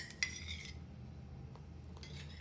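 A spoon scrapes and clinks against a pan while thickening jackfruit halwa with ghee is stirred, giving a few faint metallic taps and scrapes over a quiet background.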